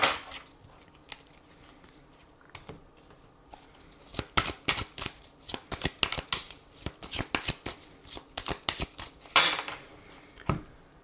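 Tarot cards being shuffled by hand, quiet at first, then rapid crisp riffling bursts in quick succession, close and fairly soft.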